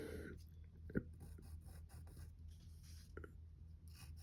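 A pen or pencil scratches lightly on paper while Superman's mouth is drawn: faint, short strokes and soft rubbing, with one sharper tap near the start, quiet and close.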